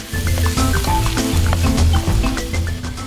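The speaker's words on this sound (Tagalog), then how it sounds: "Igigisa ni Cheryl ang bawang, sibuyas, saka ilalagay na rin ang kibit." Garlic, onion and kibit sautéing in a pan, a continuous sizzle with stirring clatter under steady background music, no talking.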